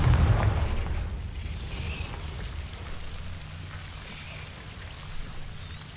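A Confringo fire spell explodes in the Hogwarts Legacy game: a heavy, deep boom opens the moment, then a crackling, rain-like rumble slowly fades away without speech.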